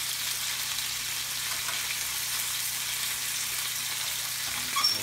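Chicken fillets fry in a pan for Italian-style pan-fried chicken, a steady close sizzle with a faint rattle near the end and no talking.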